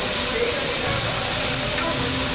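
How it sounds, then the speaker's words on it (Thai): Beef frying on a teppanyaki grill in an Osaka restaurant (Tekomai, Umeda), giving a steady, close hiss of sizzling fat with faint restaurant murmur underneath and no clear speech. "เราก็จะสนุกไปกับการปิ้งย่างนะ"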